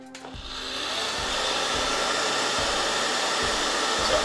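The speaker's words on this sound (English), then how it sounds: "You're just gonna get a heat gun or a hair dryer." A hair dryer switches on and blows steadily to loosen red wax, its loud airy whoosh swelling to a constant roar with a faint motor hum beneath.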